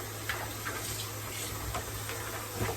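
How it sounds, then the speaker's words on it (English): Water from a kitchen tap runs steadily while a bowl is rinsed out after seasoning chicken legs, a constant hiss with a few soft knocks of the bowl and no talking. "Let me rinse out my bowl."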